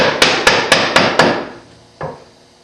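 A wooden mallet strikes a chisel cutting hand dovetails in wood: five sharp, evenly spaced knocks in quick succession, then a pause and one softer final tap, close and with no talking.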